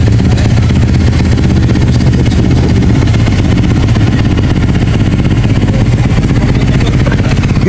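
A kickstart motorcycle engine runs loud and close, a rough, steady mid-pitched chugging that holds for several seconds without a break.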